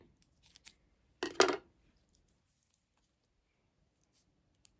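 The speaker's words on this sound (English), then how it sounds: "now you're going to cut your yarn" Scissors snip through crochet yarn on a doll dress project: one quick close double cut, preceded by a few faint handling taps, then quiet.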